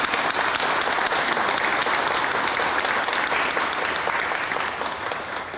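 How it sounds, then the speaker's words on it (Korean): An audience at an inauguration ceremony for a crime victim support center's new chairman gives two people a warm round of applause, a full, continuous clapping that fades slightly at the close. "우리 두 분을 위해서 감사와 격려의 마음을 담아서 뜨거운 박수 한번 보내주시기 바랍니다"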